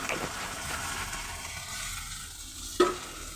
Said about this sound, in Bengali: এবার শাকটা একটু ভেজে ভেজে দিচ্ছি